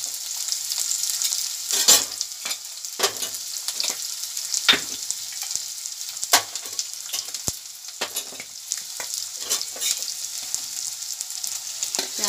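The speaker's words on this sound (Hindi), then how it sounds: "प्याज डालते" Chopped onions frying in oil in a pan for a bitter gourd dish, a close, steady hiss of sizzling broken by the scrape and clatter of stirring, with no voices.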